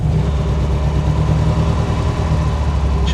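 A vintage Panhard 24 CT car engine runs loud at a constant low rumble throughout, idling evenly with no voices.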